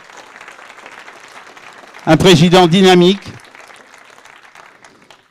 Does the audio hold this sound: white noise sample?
no